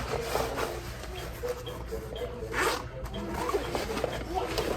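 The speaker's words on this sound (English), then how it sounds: "here, it's got a zipper in the back" Zipper on the back compartment of a tactical gear bag being pulled open, a loud, close, scratchy run of rasping teeth with brief handling rustles, lasting several seconds.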